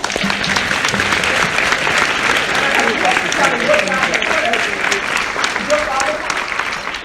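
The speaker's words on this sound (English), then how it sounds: "Give them a round of applause." Audience applause at a live event in Los Angeles, loud and sustained clapping from a large crowd that fills the room, with voices murmuring and calling out underneath.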